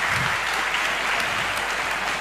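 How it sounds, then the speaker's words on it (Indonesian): Applause from an audience at a Polri national dialogue event: a steady, even roar of many hands clapping throughout, with no breaks. "beri tepuk tangan untuk semuanya"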